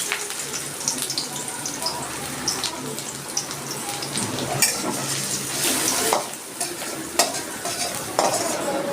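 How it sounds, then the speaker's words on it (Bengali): Onions sizzle and crackle in hot mustard oil in a pan, with stirring scrapes and clatter on top and a faint voice now and then. "আমি প্রথমে একটু পেঁয়াজ ভেজে নিচ্ছি"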